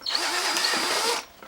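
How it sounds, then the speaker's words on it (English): A power drill bores out a bolt hole in a transformer mounting bracket, a steady loud whine lasting just over a second before cutting off. "You will need to drill the transformer out a little bit just so you can get the bolt through"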